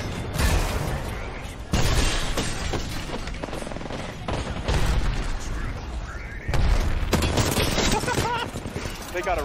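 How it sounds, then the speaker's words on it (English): Repeated grenade explosions in the Apex Legends battle royale game, loud booming blasts recurring every couple of seconds amid gunfire bursts, with a voice talking over the barrage. "Ever get bombarded with this many grenades?"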